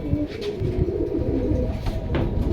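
Pigeons coo steadily in a loft holding a collection of birds, including a large pair, with overlapping throaty calls repeating close by and no talk.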